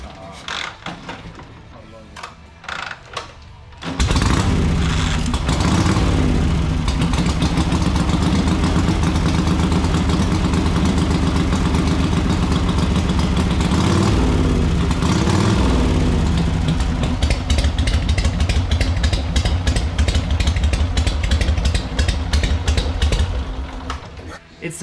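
After a quieter start, a motorcycle engine with a mostly stock engine and aftermarket pipes starts up and idles loudly nearby with a throbbing exhaust rumble, the pitch shifting slightly as it runs.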